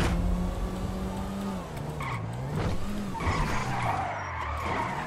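Tires screech in a long, loud skid from a car racing along a toll road in GTA V, the squeal wavering over a roaring engine throughout.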